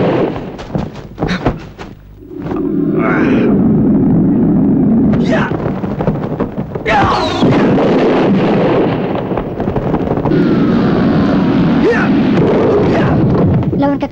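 A loud rumbling blast of a magic spell explosion in an Indonesian fantasy film, with roaring, crackling debris and wind-like noise that sustains for several seconds after sharp impacts.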